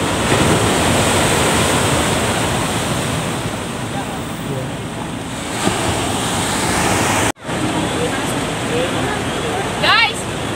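Ocean waves roll and wash continuously beside a seaside bridge in Ilocos, a loud, steady surf roar mixed with wind buffeting the microphone, briefly cut off by a gap near the end.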